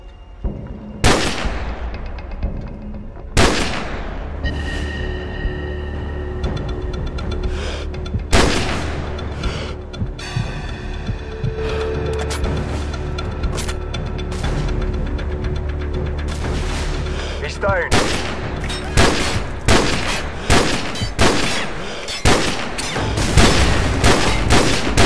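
Gunfire in Call of Duty 4: Modern Warfare: a sniper mission with repeated sharp shots, some isolated and some in rapid bursts, over a steady rumbling game ambience, loud and close throughout.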